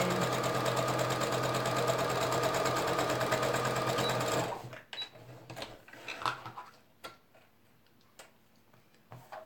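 A sewing machine runs steadily, top stitching along both sides of a handmade wallet for about four and a half seconds, then stops, leaving a few quiet clicks and handling taps.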